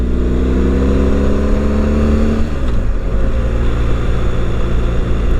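An adventure motorcycle engine runs smoothly and loud up close, a steady low drone whose pitch rises and then settles as it shifts, with wind rush and no talking.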